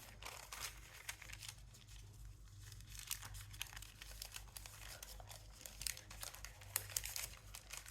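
Paper being folded and creased to form a coin envelope, faint crinkling and soft rustles in irregular bursts, close by and quiet, with no talk.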